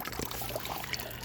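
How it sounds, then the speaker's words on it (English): A secondhand garden water fountain, set up outdoors among garden beds, trickles and splashes steadily. The flow sounds soft and continuous at a modest distance, with no voices. "I swapped out my snowman for my water fountain."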